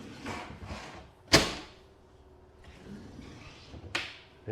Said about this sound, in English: Pop this drawer in.